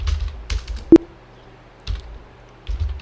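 A computer keyboard is typed on in short, sparse bursts of close key taps during data entry in Tally Prime, with one sharper single click and quiet gaps in between.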